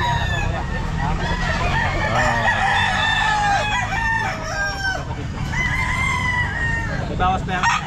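Gamecock roosters crowing repeatedly at a busy pet market, loud and close, with overlapping cock-a-doodle-doo calls and clucks over a murmur of background voices.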